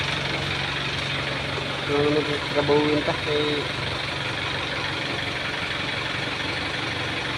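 An overhauled engine idles with a steady low rumble throughout, while someone speaks briefly over it in the middle.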